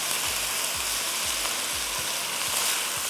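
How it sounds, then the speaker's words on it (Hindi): Minced mutton sizzles steadily in a pan with a bright, continuous hiss, while low regular thumps and scrapes come from stirring and breaking it up. "कीमे को तोड़ दीजिए, इस तरह तोड़ते जाइए ताकि वो क्लम्प अप नहीं हो जाए"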